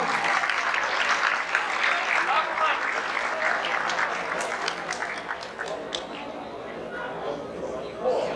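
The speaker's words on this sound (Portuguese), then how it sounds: "Uma salva de palmas." A crowd applauds steadily for several seconds, a dense wash of clapping that gradually thins out toward the end.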